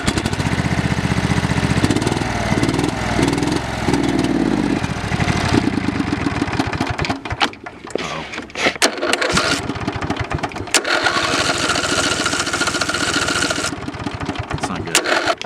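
A homemade trail mower's engine runs loudly and unevenly up close, stumbling and nearly dying midway before picking back up to a rough, steady drone.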